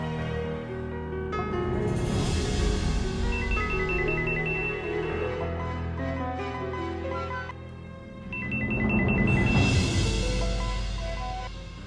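A telephone ringtone plays loudly while someone calls the doctor, with a melodic tone repeating in two bursts and a brief dip between them. No one speaks.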